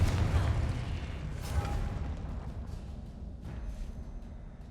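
The Confringo blasting spell explodes in a Hogwarts video game, a deep, rumbling boom that rolls on and slowly decays into a low sustained roar.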